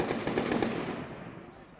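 Security forces fire guns to disperse protesters in Afghanistan, a rapid burst of loud cracking shots at the start that fades into a decaying echo.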